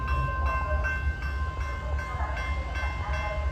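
A CSX freight train rolls past at close range, a low steady rumble with rhythmic wheel clacks and faint tonal squeal, heard alone without voices.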